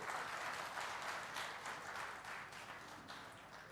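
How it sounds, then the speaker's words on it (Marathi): Audience applause at a gathering about sericulture (silk farming), a steady wash of clapping filling the whole span and easing slightly toward the end. "तुम्ही टाळ्या वाजवा म्हणजे फोटो चांगला निघते"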